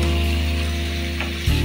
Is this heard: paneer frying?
yes